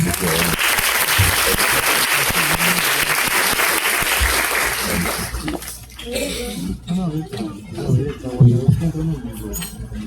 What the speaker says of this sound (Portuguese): Com a salva de palmas, por favor.